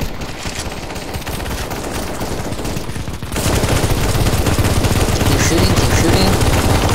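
Dense automatic gunfire in a CS:GO zombie escape match, continuous rapid shooting that grows louder and heavier partway through, filling the whole stretch without pauses.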